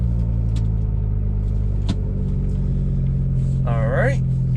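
Steady low rumble of a tuned Volvo S60R engine with a stage 2 tune and new injectors, heard from inside the cabin while idling, with a brief voice near the end.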